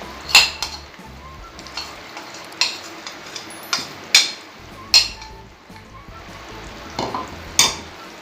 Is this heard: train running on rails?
no